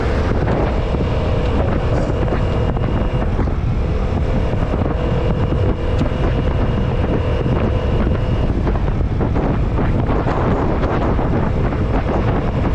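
Strong wind at the Lucena City seawall roars and buffets the microphone continuously and loudly, with a low rumble underneath and no pauses.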